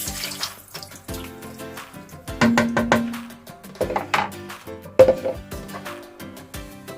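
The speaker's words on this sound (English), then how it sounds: "I'll add water, just the same level with it." Tap water runs and splashes into a cooking pot for unripe plantain porridge with gizzard, Nigerian style, in a home kitchen, several separate pours with clinks of the pot between them, close and clear with no talking.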